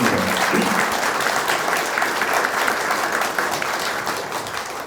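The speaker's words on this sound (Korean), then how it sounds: "사모님한테 큰 박수 좀 축하 박수 보내주시기 바랍니다." Sustained applause from a crowd at a union welcome ceremony, steady and fairly loud throughout, fading slightly toward the end.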